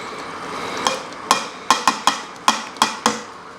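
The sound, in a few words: red kidney beans added to a pan of baked beans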